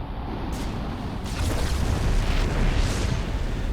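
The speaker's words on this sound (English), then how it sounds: "the ability to call down a tactical nuclear strike" A Terran tactical nuclear strike lands in StarCraft II: Wings of Liberty as a deep, rolling boom that swells partway through and keeps rumbling heavily to the end.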